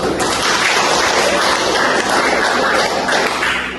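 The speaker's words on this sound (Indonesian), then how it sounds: "Terima kasih, tepuk tangan dulu." Dense, steady applause from a classroom full of students fills the whole stretch at close range, with no talk over it.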